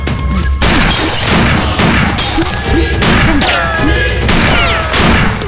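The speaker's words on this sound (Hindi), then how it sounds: "चलो गोलियां बरसाओ।" A dense volley of gunfire in a dubbed South Indian action film, loud rapid overlapping shots mixed with crashing and shattering impacts, continuous for several seconds with little pause.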